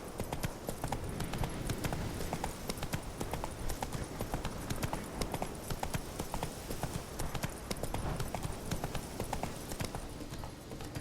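Roach, a horse in The Witcher 3, gallops steadily with a continuous rapid clip-clop of hooves, loud and close throughout, alongside faint ambient game sound.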